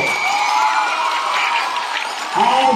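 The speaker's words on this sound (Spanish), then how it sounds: "¿Dónde se escuchan los aplausos más fuertes?" Loud, dense crowd cheering and shouting with applause mixed in, steady throughout, swelling louder near the end as voices rise.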